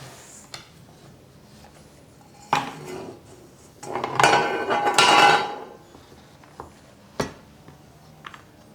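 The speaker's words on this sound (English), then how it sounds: "And now is the time I get it out of the tart tin." A chilled custard tart made from a 1950s recipe is eased out of a metal tart tin, giving a few sharp metallic clanks and rattles, with a louder cluster of scraping clatter in the middle and a final crisp knock.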